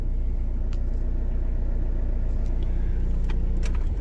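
A car engine runs at a steady low idle-like rumble while the faulty-clutch shop car creeps forward in first gear, close and continuous with faint clicks and rattles, no talking.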